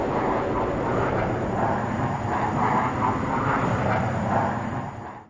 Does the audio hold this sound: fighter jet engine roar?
yes